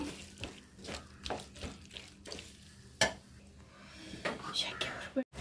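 Chopped tomatoes being stirred into a pan while cooking chicken paneer masala, with repeated spoon scrapes and clinks against the pan and a soft sizzle underneath, fairly quiet, no talk.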